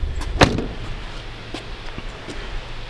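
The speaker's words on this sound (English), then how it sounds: "Let me close this door." The door of a 2016 Range Rover L405 closes with one sharp thump near the start, followed by a few faint clicks and a low background hum.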